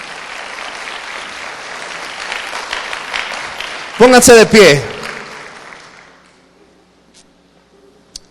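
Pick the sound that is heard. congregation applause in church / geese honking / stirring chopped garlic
congregation applause in church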